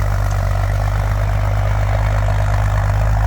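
A Bombardier Blue Bomber wide-gauge vehicle engine runs as the machine moves out in a yard, giving a loud, steady low rumble with a continuous hum and no pauses.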